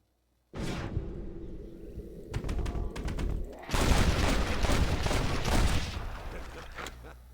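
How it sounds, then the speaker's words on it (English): Gunfire in the Red Dead Redemption game: a first loud shot, then a short run of cracks followed by a dense, continuous volley of rapid shots and booming blasts, close and loud throughout. "I'm gonna shoot him."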